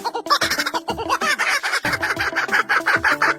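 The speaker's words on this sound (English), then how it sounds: "This is a kookaburra." A kookaburra's call, a loud, raucous, rapid run of cackling, laugh-like hoots that builds into a dense chattering chorus, with low background music playing beneath it.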